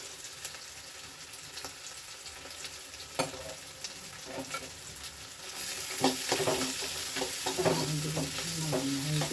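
Carrots stir-fried in a pan for vegetable fried rice, a soft continuous sizzle with scraping spatula strokes that grows louder and busier as the vegetables hit the hot oil.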